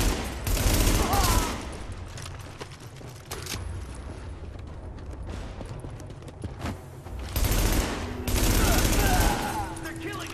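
Gunfire in The Division plays on Xbox One, with sustained automatic bursts and rattling weapon mechanisms growing loud at the start and end, and someone talks over it.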